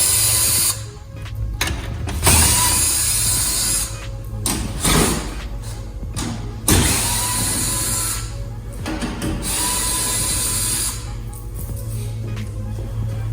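A ratchet wrench or drill works loose the 10mm front bumper bolts on a 2009-2013 Toyota Corolla, giving bursts of close, loud mechanical whirring and clicking separated by short pauses.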